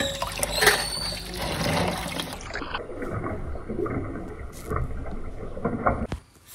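Local crabs being washed by hand in water before frying: close splashing, sloshing and trickling with handling noises, continuous for several seconds and ending with a clunk.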